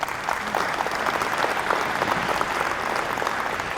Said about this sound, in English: So give Russ a round of applause